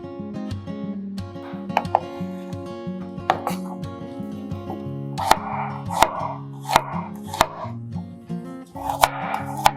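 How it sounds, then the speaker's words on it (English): A knife chops red chili, shallot, garlic and aromatic ginger for spicy uleg tempeh. Sharp, irregular chops land on a board over steady background music. "Cut red chili, shallot, garlic, aromatic ginger."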